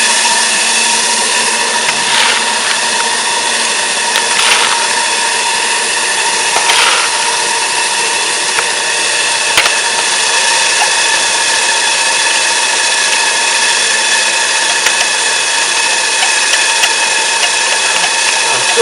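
A loud, unbroken hiss of steam roars from the safety valve of a coal-fired vertical boiler over the steady mechanical drone of a running steam engine, continuous throughout.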